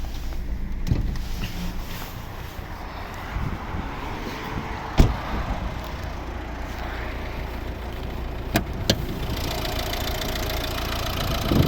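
A 2011 Volvo V60 1.6 D2 diesel engine with manual gearbox idling steadily up close, a low continuous rumble with a few faint clicks and knocks.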